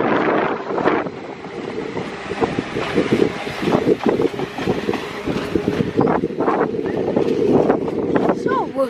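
A Class 197 train departing Crewe station for Manchester Piccadilly, a steady rumbling roll of wheels and engine with rattling and a faint squeal, under gusty wind noise on the microphone and a voice talking over it.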